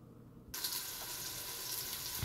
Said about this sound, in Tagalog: I think it's already hot now, so I need to put oil right now.